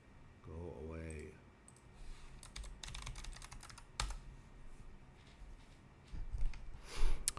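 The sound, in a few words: typing on a computer keyboard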